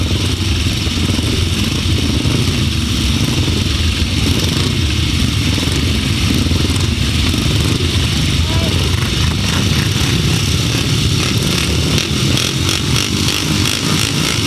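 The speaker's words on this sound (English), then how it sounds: "The bike's revving up on the line for the first time of the afternoon" Solo grasstrack motorcycles, including a 375 solo, rev on the start line at a 2006 grasstrack meeting in Bewdley, a loud, continuous engine roar with rising and falling revs throughout, mixed with outdoor crowd and commentary noise.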